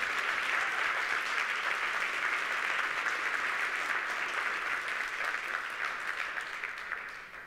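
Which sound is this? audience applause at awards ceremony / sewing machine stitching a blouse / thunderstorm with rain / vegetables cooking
audience applause at awards ceremony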